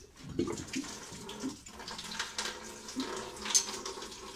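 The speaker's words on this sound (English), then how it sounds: "we're gonna drain the whole tank here" Washer fluid drains from the washer tank of an air-cooled Porsche 911, a faint, steady watery gush and trickle with small splashes, heard close up and quiet with no voices.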